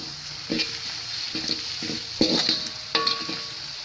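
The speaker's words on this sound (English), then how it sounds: "Mix well." A spoon repeatedly scrapes and stirs a sizzling Sri Lankan prawn biryani spice mixture in a pan. The strokes come close and fairly quiet at an uneven rhythm over a constant frying hiss.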